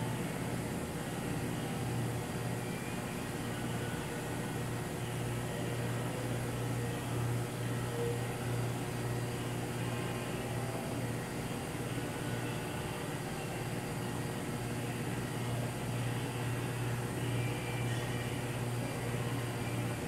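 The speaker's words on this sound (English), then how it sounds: "It is now switching to the heated nitrogen cycle." Semitool ST-280 spin rinse dryer running its heated nitrogen cycle, a steady, unbroken mechanical whir with a low electrical hum and an airy hiss that holds at an even level throughout.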